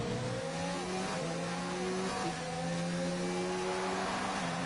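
Race car engine in an Azerbaijan-circuit racing video game, a steady high rev with rising and falling tones as it nears the last braking zone, continuous and fairly loud with no talk.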